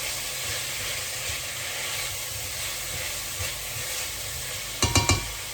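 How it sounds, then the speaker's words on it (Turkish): Onions and garlic fry in a pot with steady sizzling and hissing, with a few brief scraping stirs near the end. "Şimdi soğanı ekleyeceğim. Şu bizim sarımsak var. Onları da tencereye attım. Bir karıştırıyorum."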